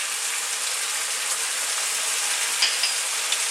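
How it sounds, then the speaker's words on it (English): Tomatoes with chili, salt and other okra curry ingredients sizzle steadily in a pan over medium heat, a constant close hiss with a few faint clinks of stirring. "on this medium heat, we're going to just cook these tomatoes along with the rest of the ingredients"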